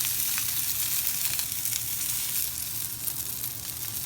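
An ingredient for ramen frying and sizzling in a pan over lowered heat, a steady hissing crackle up close that holds evenly for a few seconds with no voices.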